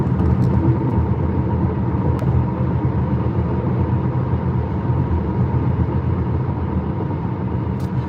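Tesla Model X interior at highway speed fills with a steady, broadband rumble of road and tire noise, constant and fairly loud throughout with no one speaking.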